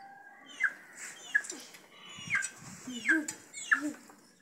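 Hens cluck in an African village during a birthday gathering, with a series of short, close calls repeating irregularly over a quiet background and no talk.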